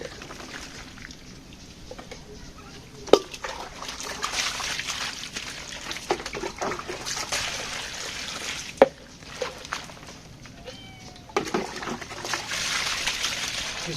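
Freshly caught fish, including small koi, being rinsed in water outdoors, giving a steady trickle and slosh with a few sharper splashes and drips, no talking.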